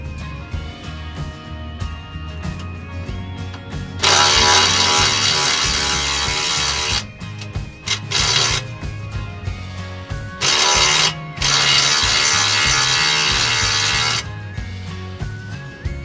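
Power tool or ratchet removes suspension bolts on a 2015 Subaru Crosstrek during a lift install, loud whirring bursts of several seconds each separated by short pauses, close up.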